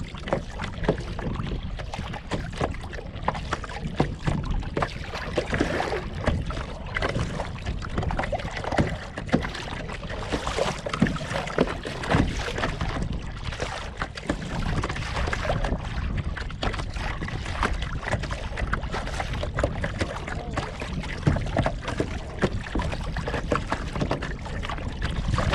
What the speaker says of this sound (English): We're paddling past the hulls of ships that were built in 1918